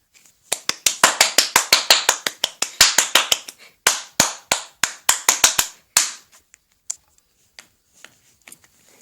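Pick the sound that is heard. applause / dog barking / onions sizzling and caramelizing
applause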